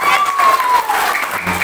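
Short burst of applause from the audience at a school traditional costume contest for a contestant in Bugis dress, a loud dense clapping wash with voices mixed in.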